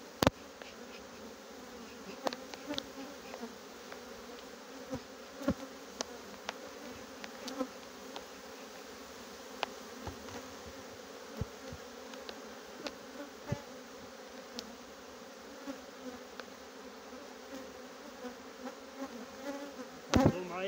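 Honey bees buzzing around an open beehive, a dense continuous drone of many insects close by, with scattered small knocks and clicks throughout and no talk.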